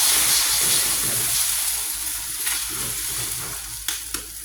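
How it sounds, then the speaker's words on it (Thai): An egg frying in hot oil beside stir-fried noodles in a pan, loud close sizzling and hissing that eases slightly, with a couple of sharp utensil taps near the end and no voices. "ใส่ไข่ลงไปนะคะเพื่อนนใส่ไข่ลงไปค่ะ"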